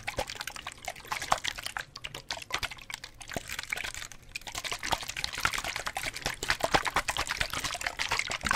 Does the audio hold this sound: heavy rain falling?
no